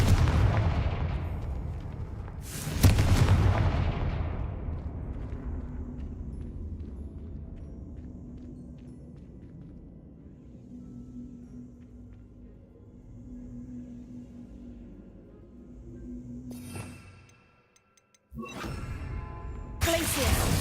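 Confringo and Expelliarmus spell blasts in Hogwarts Legacy, a sharp loud burst followed by a long fading rumble, then a second abrupt blast near the end after a brief silence.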